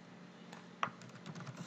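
Fingers tap lightly on a computer keyboard in a quiet room, a few faint scattered keystrokes with one sharper click near the middle.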